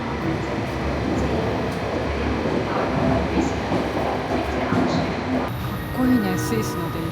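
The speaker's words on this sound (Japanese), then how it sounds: "スイスの電車" A Swiss passenger train rolls along with steady rumbling and faint clattering, heard from inside, with occasional high squeals and a voice talking over it.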